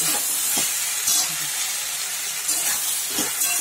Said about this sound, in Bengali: সমস্ত পেঁয়াজ আলু ঢেঁড়স সব একসাথে দিয়ে এবার কষাচ্ছি